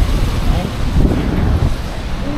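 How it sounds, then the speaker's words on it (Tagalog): Cold winter wind buffeting a handheld microphone outdoors on a rainy day in Taiwan, a steady loud rumbling roar filling the whole moment with gusty swells. "Uy, lamig ng hangin."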